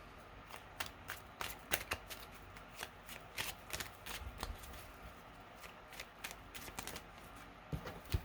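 A deck of tarot cards is shuffled close by, in quick riffling bursts and sharp flicks that come in uneven clusters, with quiet pauses between them and no voices.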